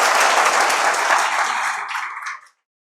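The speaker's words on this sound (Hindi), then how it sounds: "एक बार स्वागत बढ़िया तालियों के साथ कीजिए" Students in a classroom clap together to welcome a guest, a loud, dense burst of applause that thins out and stops abruptly after about two and a half seconds.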